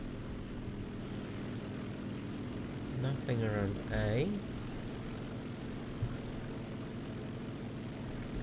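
A propeller plane drones steadily in a War Thunder naval battle, a constant engine hum beneath someone talking briefly.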